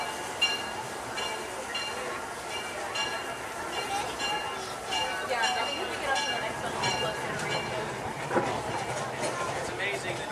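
The Disneyland Railroad train rumbles steadily at Main Street Station on Main Street, USA, with faint wheel squeal and mechanical clatter beneath a station announcement.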